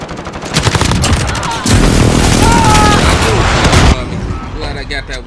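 Video game firefight with an enemy precision airstrike: dense rapid gunfire and heavy booming explosions crowd together loudly, with sustained rumbling blasts in the middle and game voice callouts mixed in.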